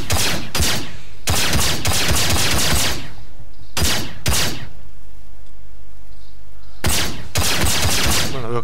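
Ship-mounted weapons fire in the Star Citizen space game while flying a Hornet F7CR fighter, loud bursts of gunfire coming in several separate volleys with short quiet gaps between them, close and punchy.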